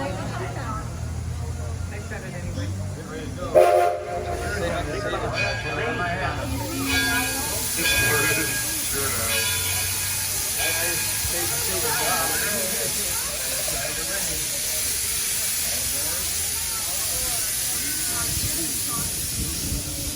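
An Edison heritage train pulls away toward Firestone Station. Steady hissing steam and a rolling rail rumble carry on throughout, with a brief louder burst near the start and voices talking over the noise.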